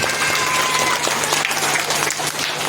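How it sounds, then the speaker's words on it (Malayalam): A crowd applauds a departing teacher at a school opening ceremony, with brisk, continuous clapping from many hands that stays loud and even throughout with no talk over it. "നല്ലൊരു കൈയടി അദ്ദേഹത്തിന് ഒന്ന് കൊടുക്കുകയാണെങ്കിൽ വളരെ നല്ലതായിരിക്കും"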